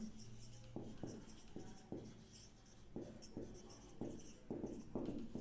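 A pen writes on paper up close, making quiet scratchy strokes in short irregular bursts with brief pauses between them and no talking.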